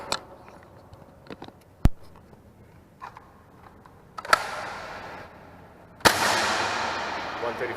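A Jet Blaster Zeus 2 dart blaster fitted with an Alpha Kit at 16 kg fires darts through a chronograph. Faint handling clicks lead up to two sharp shots, each followed by a lingering hiss.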